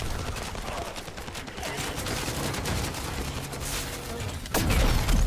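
Weapons firing at orbs in The First Descendant shooter game, rapid bursts of gunfire blending into continuous loud combat noise, with a sharp louder blast near the end.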